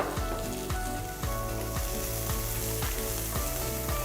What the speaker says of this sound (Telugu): ఆ తర్వాత చిన్నగా తరిగిన రెండు ఉల్లిపాయల్ని ఇందులో వేస్తున్నాను